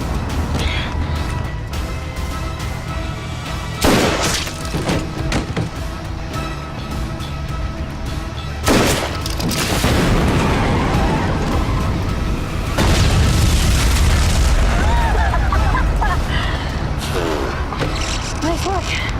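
Rocket launcher fire and a blast in an action movie scene: deep booming impacts around four and nine seconds, then a heavy rumbling explosion with debris that swells and holds loud to the end, all over a dense, noisy soundtrack.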